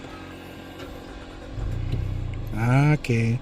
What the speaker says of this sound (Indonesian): tinggal injek rem dan tekan start stop button di sebelah kiri sini untuk menyalakan si mesinnya